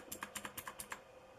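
Keys clack on a Motospeed CK62 mechanical keyboard, about nine quick crisp presses in an uneven burst that then stops, fairly faint and close, with no voice.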